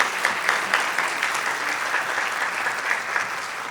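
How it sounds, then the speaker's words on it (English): Sustained applause from a conference audience of community leaders, a steady dense clatter of many hands clapping at close range with no talking over it. "Just get a big round of applause, please"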